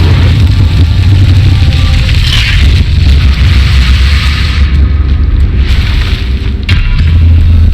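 Casting the Incendio fire spell in Hogwarts Legacy sends out a loud, continuous roaring whoosh of flame with deep rumbling booms. It is close and dominant, with no voices.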